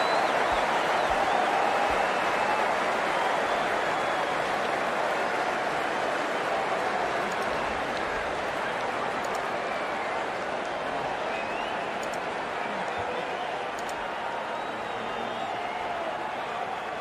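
Crowd applause and cheering in the Cricket 19 video game: a dense, continuous roar of clapping and crowd noise that fills the whole stretch at a steady level, with no voices standing out.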